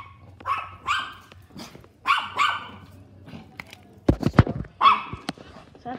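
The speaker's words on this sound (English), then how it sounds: "That's the doggo." A dog barks indoors in several sharp, close bursts, with a cluster of louder rapid barks near the end and quieter yips and growls in between.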